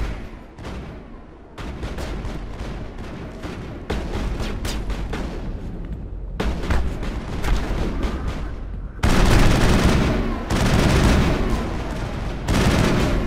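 Submachine gun fire from the video game Mass Effect rattles in loud, sustained bursts with brief pauses between them, dense and close throughout.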